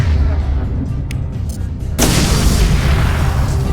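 Overload blast set off on cargo containers in Mass Effect 2, a sudden loud burst at about two seconds that leaves a dense roar and crackle over a continuous low rumble of in-game gunfire and action.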